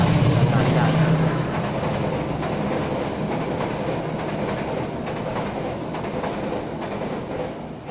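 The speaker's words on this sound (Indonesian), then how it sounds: "Itu ada kereta lewat," A train rolls past a house close to the railway tracks, a steady rumbling roar with a faint rhythmic clatter that slowly fades toward the end.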